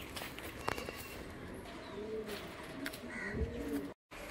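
Green Madras high-flying pigeons coo softly at close range, a few low rolling calls against quiet background noise with small flutters and taps.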